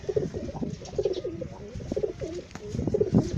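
Stock pigeons kept as breeders coo steadily close by, with repeated throaty phrases overlapping throughout and no talking.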